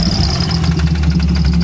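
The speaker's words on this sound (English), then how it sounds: "The distinctive sound of rod or crank knock." A failing engine in an F355 replica, running with no oil pressure, knocks from a worn rod or crank: a loud, close idle with a rapid, steady metallic rattle pulsing through a low drone.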